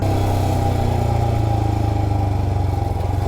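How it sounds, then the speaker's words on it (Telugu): A motorcycle engine in the high-altitude mountains of Leh-Ladakh, on the road to the Nubra Valley, runs loud and close with a steady throbbing low drone while engine braking in low gear, with no voices. "so used engine breaking control చేయడానికి డైరెక్ట్గా థర్డ్ గేర్ నుండి ఫస్ట్ గేర్ వేసేసాను"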